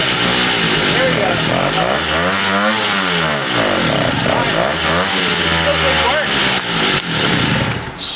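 A 1969 Morini 50cc two-stroke mini bike engine running loud and close, its buzzing note rising and falling with repeated revs before settling, not yet idling smoothly.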